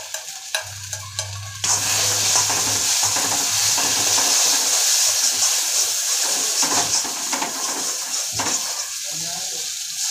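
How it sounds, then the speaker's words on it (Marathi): Masala paste roasting in a hot pan, beginning with a brief low hum before a loud, steady sizzle takes over, with scraping stir strokes throughout, close and dense. "आपल्याला चांगलं लाल भाजून द्यायचं वाटण"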